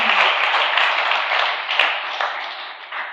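A church congregation at a worship service applauds with loud, dense, continuous clapping that holds steady and then thins slightly toward the end.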